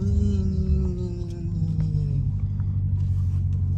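A Dodge Hellcat's engine rumbles loudly while sliding in a rainstorm, and a few small pops crackle from the motor as it downshifts.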